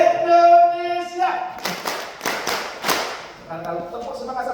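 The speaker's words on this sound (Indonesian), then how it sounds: "Itu tepuk semangat." An audience at a leadership training meeting claps a spirit clap together, a few loud rhythmic bursts of group clapping after a sung or spoken lead-in, with voices around it.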